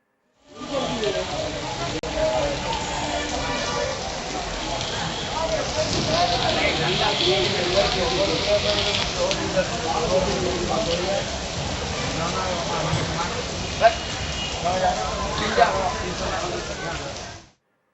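Heavy downpour with rainwater and sewage runoff rushing along a flooded road, a steady dense hiss of rain and flowing water throughout with faint speech mixed in underneath.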